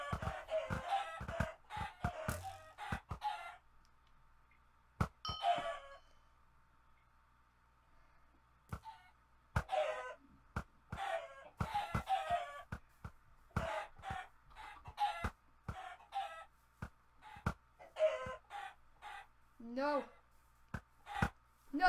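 Chickens cluck and squawk in the Minecraft minigame Bawk Bawk Battles, in rapid irregular bursts with short gaps, mixed with sharp game clicks and a steady low hum from a laggy session.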